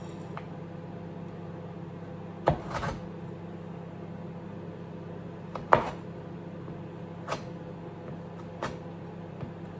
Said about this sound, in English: I'm taking each of the club biscuit bars and I'm chopping